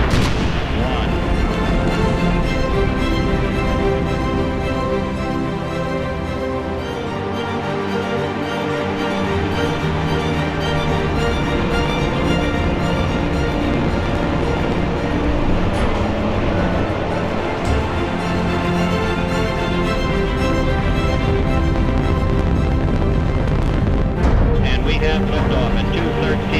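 A Saturn V rocket thunders as it lifts off for Apollo 13, a loud, continuous, crackling roar that fills the whole stretch and swells slightly near the end.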